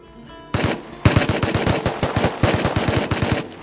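Automatic weapon fire in the game Rust, loud and close, with two sustained bursts of rapid, evenly spaced shots and a brief pause between them.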